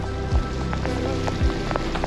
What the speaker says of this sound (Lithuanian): Lyja kaip reikia.